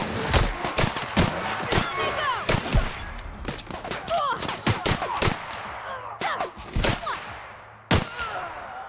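Rapid gunfire rings out in The Outer Worlds, sharp shots in uneven bursts and single cracks with whizzing projectiles between, fairly loud and close across the whole span.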